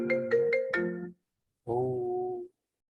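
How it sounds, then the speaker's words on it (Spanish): A phone ringtone sounds during a history class, four quick melodic tone bursts followed after a pause by one longer sustained tone, clear and close with no talk over it. "Discúlpenme, me están llamando por teléfono."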